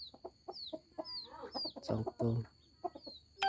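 Five-month-old chickens cluck softly in short bursts, with one louder squawk near the middle and a quiet background whistle, fairly close but faint overall.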